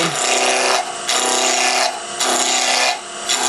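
A lathe gouge cuts a spinning wooden wine stopper blank, making a loud, close scraping rasp in repeated passes with brief dips between strokes.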